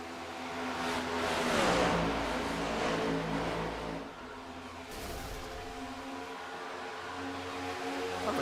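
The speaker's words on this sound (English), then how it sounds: "Sounds like somebody just blew an engine." A race car engine blows up during an iRacing NewGen Cup race at Las Vegas, heard as loud, steady engine roar and revving with a strained surge early on, then a slightly lower, continuous drone.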